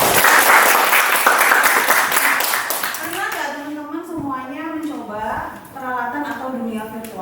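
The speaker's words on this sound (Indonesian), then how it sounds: "Oke, bagus, tepuk tangan." Audience applause in a classroom or lecture setting during a talk on immersive technology, dense clapping loud for about three seconds, then fading as voices and speech take over.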